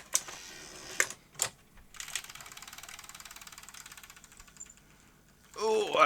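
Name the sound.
Sony Betamax SL-C9 recorder loading a tape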